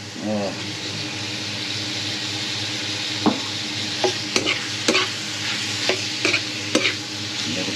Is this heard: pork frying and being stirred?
yes